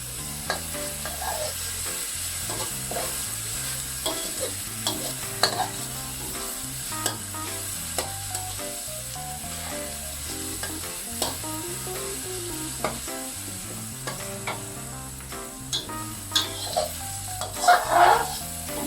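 Chili and garlic stir-fry in a pan over medium heat, giving a steady soft sizzle with the scrape and clatter of a utensil stirring throughout, fairly quiet and without talk.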